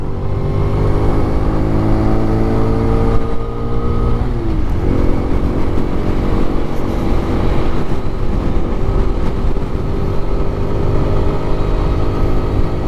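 A Honda Grom clone motorcycle, a 2020 model, accelerates steadily toward top speed, its small engine droning loud and continuous with rising harmonic tones that shift partway through, like a gear change, with no talking.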